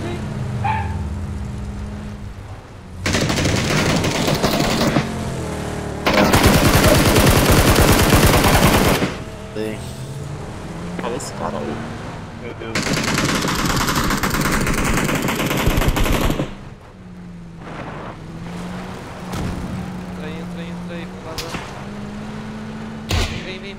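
Machine gun fire in a video game erupts in long, loud sustained bursts with pauses between them, alongside other game sounds while players talk over the action.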